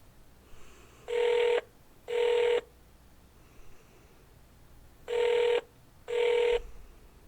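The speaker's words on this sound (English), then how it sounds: "Please wait while I transfer your call." Telephone ringback tone while a call is being transferred: two double rings, each a pair of steady electronic tones about half a second long, separated by a few seconds of quiet line hiss.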